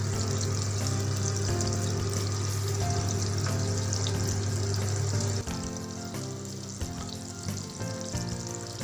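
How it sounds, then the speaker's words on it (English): Two spoonfuls of butter melt in a hot pan, giving a loud, steady sizzle that crackles and fries throughout, then eases slightly and turns more uneven near the end, with no talk. "My pan is ready. I put 2 spoons of butter. See, it's melt properly."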